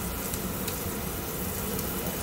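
A sirloin steak sears in a hot pan, giving a loud, dense, continuous sizzle throughout with no talk.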